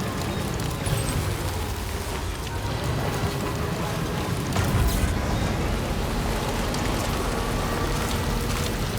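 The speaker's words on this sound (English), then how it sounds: "I fucking hate how often it rains around here." Steady rain pours down in the video game Death Stranding 2, a dense, continuous hiss of drops on surfaces with a low rumbling undertone, holding at an even level throughout with no talking.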